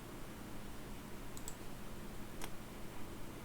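Computer mouse clicks and keyboard typing while navigating Dynamics 365 Business Central software: a few sparse, faint, sharp clicks over a steady background hiss.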